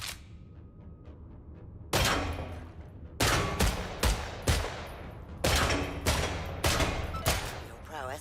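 Sidearm fire at targets in the horde shooter Killing Floor 3: a few loud, sharp shots, then steady bursts of closely spaced cracks with ringing tails across most of the stretch.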